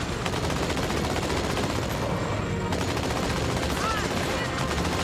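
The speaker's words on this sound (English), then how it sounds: "Keep shooting at him." Dense, continuous Halo 2 Anniversary Edition gunfire, rapid automatic bursts filling the whole stretch at steady loudness with a brief dip midway, heard alone without talk.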